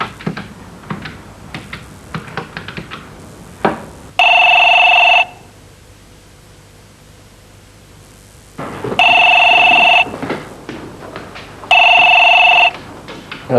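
A telephone rings back after a number is dialed: three loud, near bursts of electronic ring about a second each, separated by pauses, with faint clicks and room shuffling before and between.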